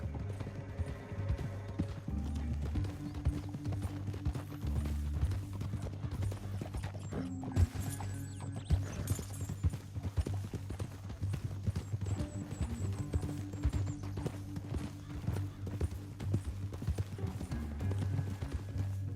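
Horse hooves clip-clop at a gallop through a Red Dead Redemption 2 game scene, a steady rhythmic pounding that runs the whole time under a busy game soundtrack, with an occasional neigh.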